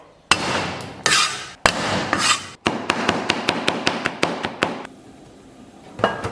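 A knife chops garlic into mince on a cutting board in quick, close, sharp strikes. Bursts of scraping come first, followed by a run of about a dozen evenly spaced chops.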